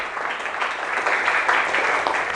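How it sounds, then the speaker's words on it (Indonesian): A classroom of schoolchildren clapping together for a student group, dense and steady applause that swells slightly and carries on throughout. "Tepuk tangan untuk kelompok 2."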